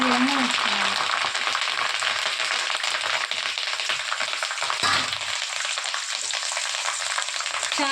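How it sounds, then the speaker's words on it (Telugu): Curry leaves fry in oil for an amla pickle, a dense, even sizzle that runs loud and unbroken throughout, with faint stirring scrapes and no talk. "కరివేపాకు కనుక మనం నూనెలోనే వేయించుకున్నట్లయితే బాగా అవి డ్రై అయ్యే విధంగా ఉంచుకోవాలి"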